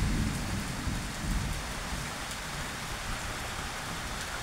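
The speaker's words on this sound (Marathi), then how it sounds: "पाऊस पडायला लागला." Rain begins falling in an unseasonal storm over farmland, a low thunder rumble opening the stretch before an even, dense hiss of rain settles in, close and steady with no talk.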